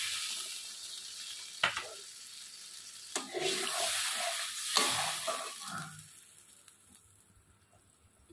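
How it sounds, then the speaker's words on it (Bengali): Potatoes stirred through rui fish curry masala in a pan, with quiet scraping strokes and soft sizzling in a few bursts, followed by a wetter hiss as water goes in, fading toward the end. "আলু দিয়ে একটু নাড়াচাড়া করে আমি জল দিয়ে দেবো।"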